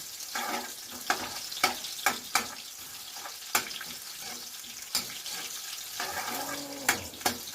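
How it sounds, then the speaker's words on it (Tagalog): Onion and garlic fry in a pan for a home-cooked vegetable adobo, giving a steady sizzle with scattered sharp pops and clinks of stirring, fairly close. "ilunod na nato ang atong sibuyas ug ahos"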